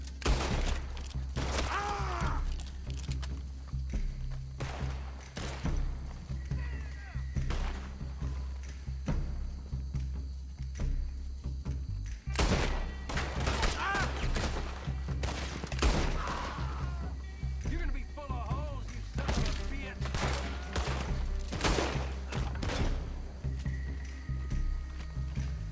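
Scattered gunshots crack in a PC shooter video game, irregular single shots and short bursts ringing out over steady background noise, some near and loud, others fainter.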